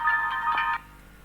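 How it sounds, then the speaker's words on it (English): A mobile phone ringtone for an incoming call, a short run of bright electronic tones repeating three or four times before cutting off, moderately quiet. "Excuse my phone, guys, let me just quickly take this."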